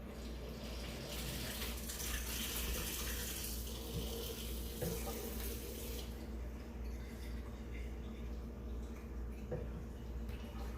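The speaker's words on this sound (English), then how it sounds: "So here's the water that comes out of the machine." Water pours steadily from a water ionizer machine in a continuous, close running stream like a tap, with the flow texture changing slightly partway through and no voices.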